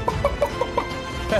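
Chicken clucking in the battle royale game Realm Royale, a run of short separate clucks close together and fairly loud over steady game background noise, then a final cluck near the end.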